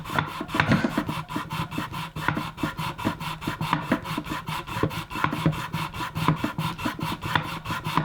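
A plastic smallpipe reed is rubbed back and forth by hand on sandpaper, giving quick, even rasping strokes in a steady close rhythm that runs without pause.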